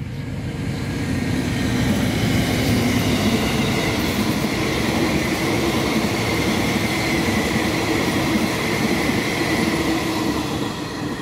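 A train rumbles past close by with a steady, loud roar of wheels on rails, holding even for about eleven seconds.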